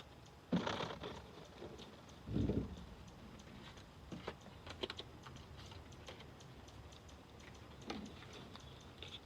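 Tarot cards are picked up and handled, making soft papery slaps, light taps and brief shuffling rustles at close range against a faint background hiss, with no one talking.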